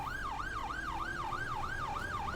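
Wailing ambulance siren in the OMSI 2 bus simulator game on a Yorkshire route, rising and falling steadily in a repeating cycle about every third of a second, loud and continuous with no talk over it.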